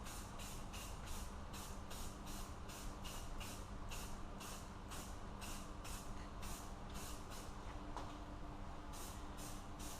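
Aerosol spray paint hissing from a can onto a Honda 400EX motorcycle frame in steady, close bursts, repeated roughly every half second with no talking.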